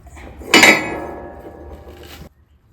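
A flail mower rotor fitted with hammer blades is spun by hand, giving one sharp metallic clank followed by a ringing, fading whir that stops abruptly about two seconds later.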